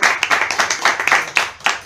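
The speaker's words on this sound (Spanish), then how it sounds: "Pido un aplauso para esta lucha política tenaz" Rhythmic, steady clapping in unison from a crowd at an Argentine anti-Macri political rally and workers' camp, with sharp beats about four times a second over a brief stretch.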